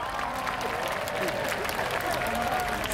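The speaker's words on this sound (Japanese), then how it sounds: "皆さんぜひ拍手や声で答えてください。" Steady applause from a large crowd at a fireworks festival before launch, mixed with some voices, continues without a break.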